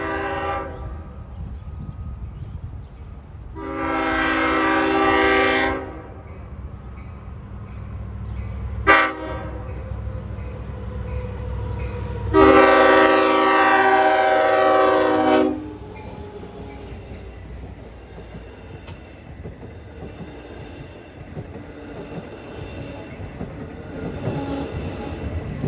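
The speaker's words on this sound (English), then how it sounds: "That's got a good K5 LL horn." A Long Island Rail Road diesel train on the Montauk Branch east of Babylon sounds two loud blasts of its K5LA air horn, the second longer. A constant low rumble of the train runs underneath.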